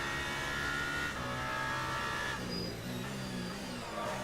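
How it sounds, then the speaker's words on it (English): Race car engine in a racing video game at Bahrain, dropping out as the car slows and then cutting back in, a steady loud drone with a brief dip partway through, heard alone. "once he gets really slow, the engine cuts out"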